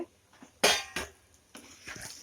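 Fried raw banana pieces are mixed into masala in a pan: a few sharp metal clinks and scrapes from a spoon against the pan, separated by quiet pauses, close and moderately loud.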